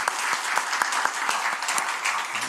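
A church congregation at a Sunday worship service bursts into brisk, dense clapping, close and lively, with individual sharp claps standing out against the continuous patter.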